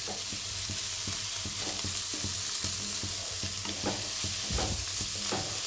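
Spice paste with grated coconut and coriander stir-fried for Bengali chana dal, steady sizzle with regular scraping strokes of a spatula against the pan, close and continuous without any voices.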